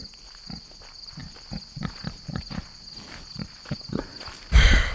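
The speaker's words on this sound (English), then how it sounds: "Let's go walk this pig." Soft, uneven footsteps shuffle and patter on the ground, ending with a louder burst of noise, over a faint high steady tone.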